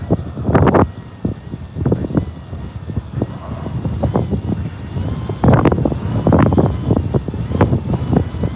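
Strong wind during an Iowa blizzard on the roads, roaring in repeated heavy gusts that buffet the microphone, loud and close, surging and easing throughout.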